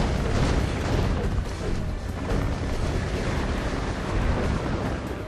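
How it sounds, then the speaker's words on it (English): A continuous dense roar of rocket blasts and explosions fills a Ratchet & Clank 2 boss fight, loud and sustained with no clear breaks between hits. "Couple of rocket shots ought to fix him."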